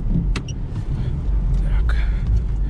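A Lada Niva off-road car driving fast across a field, with a steady low engine and road rumble and a few rattles, close by and under a person talking.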